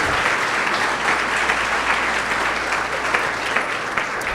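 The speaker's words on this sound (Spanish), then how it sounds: "Denle un aplauso al Señor" A church congregation applauds their Lord during a sermon, steady sustained clapping filling the room for a few seconds without a break.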